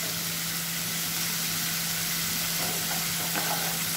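Boal (wallago attu) fish curry fries in hot oil in a pan, giving a steady, even sizzle and hiss close by, with no talk.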